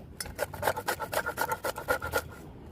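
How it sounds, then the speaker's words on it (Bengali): Peeled raw mango, soaked in water, is rubbed against a hand grater in quick rasping strokes, about a dozen in an even rhythm, close and crisp. "এখন এটা আমি ঘষনি দিয়ে ঘষে নেব"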